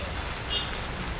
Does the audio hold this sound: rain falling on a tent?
yes